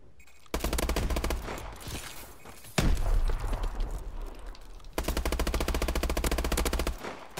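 Sustained bursts of rapid automatic gunfire in Call of Duty: Advanced Warfare multiplayer, loud and close, with a heavy single blast midway and a brief lull before another long burst; no talk.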